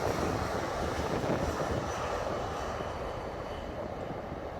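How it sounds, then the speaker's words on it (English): A C-17 military transport plane flying in, producing a loud, steady, broad jet roar that fills the whole stretch and fades only slightly, heard close with no talk over it. "So this is a real man's plane coming in."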